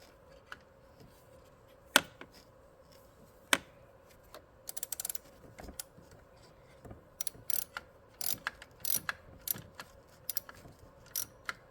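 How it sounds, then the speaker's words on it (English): Socket ratchet tightening a bolt on the transmission control module of a 2012 Ford Focus, heard as short metallic clicks and taps in irregular bursts, close and moderately loud, with no talking. "I'll grab my socket here and tighten it even more."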